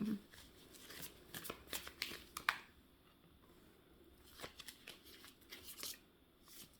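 Quiet, close card shuffling in short riffling bursts separated by brief pauses, with no talking.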